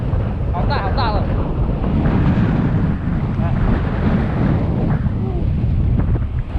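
Gale-force gusts of wind, estimated above force 9, sweep a seaside shore where big waves are breaking, a loud continuous roaring buffet throughout with faint voices in it.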